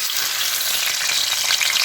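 Milkfish, skin side down, frying in a pan left over from cooking fried rice gives a loud, steady, close sizzle of hot oil with dense crackling and no voices.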